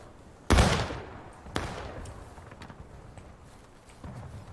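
Musket volleys in the Civil War game War of Rights: two sharp, loud reports about a second apart, the first heavier, trailing into a faint crackle of distant shots and a softer pop near the end.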